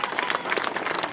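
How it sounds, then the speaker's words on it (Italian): Brief burst of audience applause at an outdoor performance in Foce di Amelia, a dense, even patter of many hands clapping at moderate volume. "per madonna Elisa un bel applauso!"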